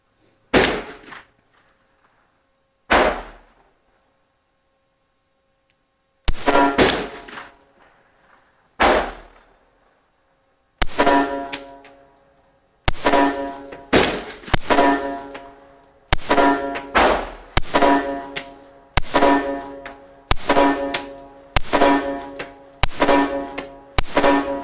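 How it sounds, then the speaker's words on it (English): A Girsan MC14-T tip-up pistol fires Winchester 95 grain target ammo: sharp, separate gunshots, a few widely spaced at first, then a quicker steady run of shots with quiet gaps between each crack. "we'll fire some shots and see how it functions. This is the first magazine through the firearm. Winchester 95 grain target ammo."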